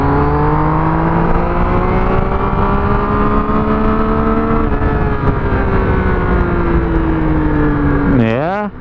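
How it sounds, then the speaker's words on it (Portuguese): A modified motorcycle engine roars loudly and close, a steady droning tone that dips slightly in pitch midway, then swoops down and back up in a quick rev near the end. Faint voices may sit under the engine noise. "vocês estão vendo que a moto tá diferente pra caramba, né? Ronco diferente, tocada diferente."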